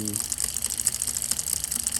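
Water runs and splashes over the chain of a Brompton folding bicycle during a rinse with a Park Tool chain cleaner, giving a steady close hiss and gush throughout.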